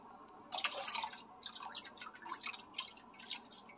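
Water dripping and splashing as fish is washed in lemon water, a close, irregular series of wet drips and trickles over about four seconds, with no talking.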